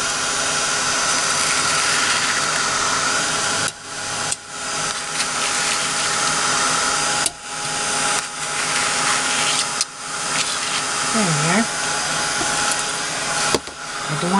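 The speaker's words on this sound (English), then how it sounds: "I'm going to quickly just give it a little bit of drying." A heat tool blows a steady, loud whooshing roar close by as it dries paint on watercolor paper, running continuously with a few brief dips and faint clicks.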